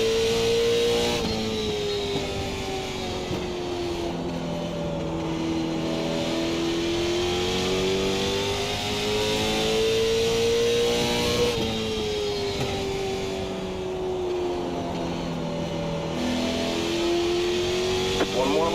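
NASCAR '87 Legends race cars at Talladega in the iRacing video game, with loud, steady engine roar rising and falling in pitch as the pack runs flat out, while a voice talks over the racing.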